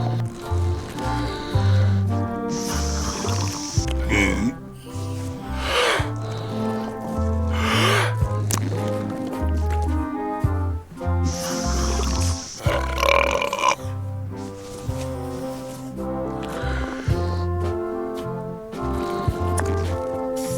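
Cartoonish burps and grunting belches trade back and forth in a burping contest from the video game Return to Monkey Island, set over a bouncy game music score that plays throughout.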